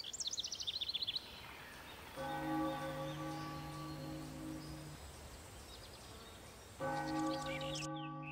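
Church bells ring in two bursts of steady, resonant tolling with long sustained tones, separated by a quieter gap; faint birdsong chirps at the start, with no voices present.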